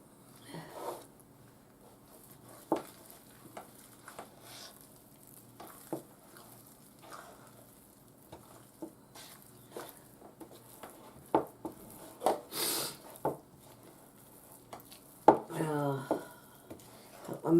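Chicken salad made from chicken meat scraps being stirred in a bowl, giving soft, intermittent scraping and clinking of a utensil against the bowl, quiet and close, with a few louder knocks near the end.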